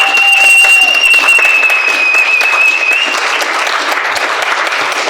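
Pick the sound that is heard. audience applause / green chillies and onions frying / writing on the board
audience applause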